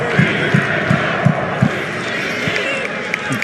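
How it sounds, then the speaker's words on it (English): A football crowd at a Euro 2020 match between Croatia and the Czech Republic makes a steady stadium roar with a run of rhythmic chanting thumps, and a commentator talks over it. "the crowd started to make a little more noise here."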